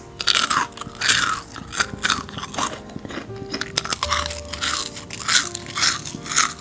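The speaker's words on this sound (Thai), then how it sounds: "เดี๋ยวจะลองมาชิมให้ดูนะคะ ว่าอันที่ใช้ น้ำปูนใสเนี่ยจะกรอบกว่าหรือเปล่านะคะ" Repeated crisp crunches of teeth biting into deep-fried crab sticks, some soaked in limewater before frying, with chewing between bites; close, loud and regular, no talking.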